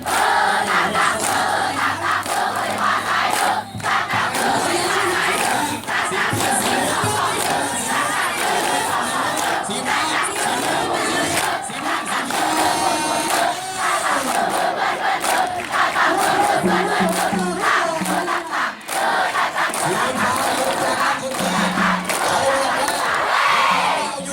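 At a Piyamaharachalai school sports day, the blue team's crowd of students chants and cheers loudly and continuously, a dense wall of massed shouting voices that never lets up.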